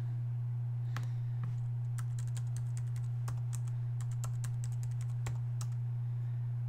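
Computer keyboard keys tapped at an uneven pace while filling in web form fields, close and fairly quiet over a steady low electrical hum, with no talking.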